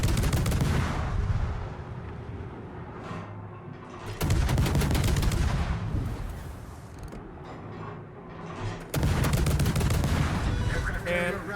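Heavy naval guns pound away with solid SAP rounds in a World of Warships battle involving the USS San Diego, three loud booming salvos landing a few seconds apart with rumbling tails, and no voices.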